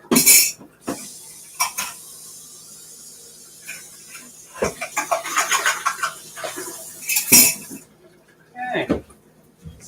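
Kitchen utensils clattering and clinking as someone rummages for a spatula, sharp scattered metallic knocks and rattles close by, with a person talking between them.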